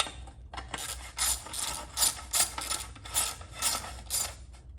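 A ratchet with a 10 mm socket tightens a bolt on the intake manifold of a 2008 Charger engine under rebuild, giving steady close rhythmic clicking in repeated strokes for several seconds, with no talking.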